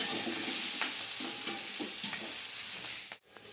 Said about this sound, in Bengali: সবজিগুলো সব ভাজা হয়ে গেছে, নামিয়ে নেব।